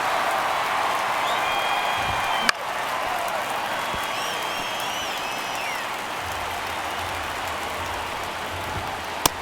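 A baseball stadium crowd in an MLB video game keeps up a steady, even hum during a tense one-run ninth inning, with a couple of sharp clicks standing out.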